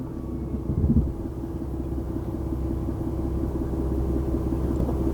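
A diesel engine in a small tow truck rumbles at a steady low idle close by, with a brief louder knock early on.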